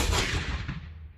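A musket volley fired by soldiers during a historical demonstration: one loud, sharp bang that quickly decays with a booming tail, heard alone.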